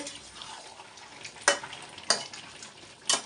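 Chicken sizzles in a pan as it is cooked down with spices, a soft continuous frying hiss broken by three sharp scraping stirs of a spatula.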